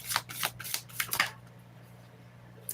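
Tarot cards reshuffled in the hands, five quick riffling bursts in a row, close and crisp, then stopping into quiet room tone.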